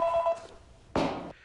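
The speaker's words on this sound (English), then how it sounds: "I'm getting the fax beeps" Fax machine tones come down a telephone line: a steady electronic beep first, then after a short pause a louder burst of harsh, noisy screeching, heard alone.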